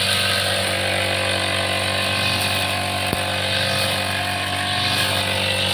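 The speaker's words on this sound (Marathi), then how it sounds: "ग्रास कटर मारायचं" A grass cutter machine clearing overgrown grass and weeds around a closed-up house, its small engine running at a steady, droning whine, loud and close, with one sharp tick midway.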